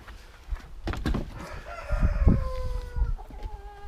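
A rooster crows nearby while hens cluck in short bursts around it.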